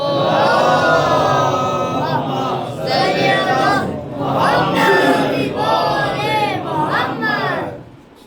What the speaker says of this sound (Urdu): آواز بلند نعرے صلوات